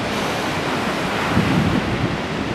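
Ocean surf rolls in at Anglet beach on an agitated morning at low tide, a steady broadband wash of breaking waves with wind buffeting the microphone, loud and close, with no talk.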